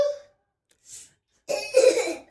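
A child with a cold gives a short cough, a brief breathy sound after a pause, then a burst of several throaty coughs close to the microphone.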